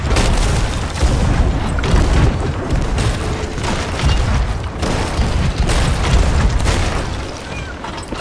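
Dense, chaotic rumble of booming ship cannon shots and crashing impacts in a Sea of Thieves battle, loud and continuous with repeated heavy bursts.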